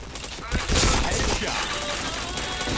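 Rapid automatic gunfire in the shooter game Point Blank, dense and loud bursts running almost continuously after a brief quieter opening, with voices faintly mixed in.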